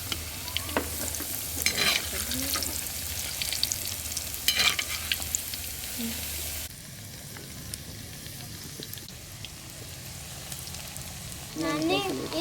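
Potato bajji frying in oil over a village wood-fired stove, a bubbling sizzle with clinks of utensils, easing to a quieter hiss midway, with voices chatting at times.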